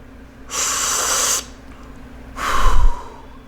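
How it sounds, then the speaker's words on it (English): One person breathes deeply, close to the mic: a long, airy inhale lasting about a second, a short pause, then a heavier, rougher exhale. There is no talk over it. "let me just say I take a breath and listen to this"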